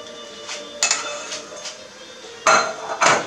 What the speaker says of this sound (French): on remue jusqu'à temps que le sucre soit bien dissous et que notre sirop soit transparent